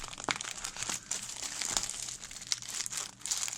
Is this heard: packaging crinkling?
yes